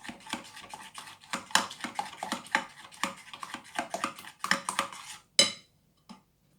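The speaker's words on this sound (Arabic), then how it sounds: "نحرك مزيان." A spoon stirs a gelatin mixture in a bowl, clinking and scraping rhythmically against the sides in quick, close strokes for about five seconds, then stops with a final knock.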